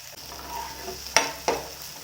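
Tomatoes fry in an oiled pan with a soft steady sizzle, broken by a few sharp clinks of a utensil stirring against the pan, close and without talk.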